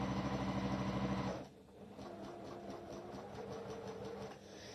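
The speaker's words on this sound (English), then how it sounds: "I'm going to stitch the long side, just one of the long side. So we'll stitch down here." A sewing machine stitches the long side of quilt fabric for a potato chip block, whirring loudly and rhythmically up close, then dropping to a quieter, steady running hum.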